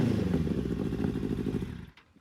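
Benelli TNT 600i motorcycle engine revving close by, a loud, throaty rasp with pulsing rev surges that cut off sharply near the end, leaving quiet.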